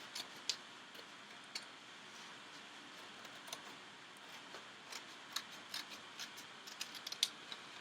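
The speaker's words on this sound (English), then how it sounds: "I'm going to take my scissors and I'm going to cut that out" Scissors cut out a folded paper cup pattern, a quiet series of faint snips and clicks coming in an uneven rhythm over a low background hiss.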